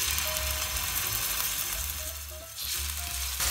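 Chicken breast pieces fry with garlic in a pan, giving off a steady, close, continuous sizzle and crackle that dips briefly and then resumes.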